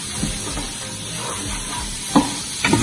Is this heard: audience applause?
no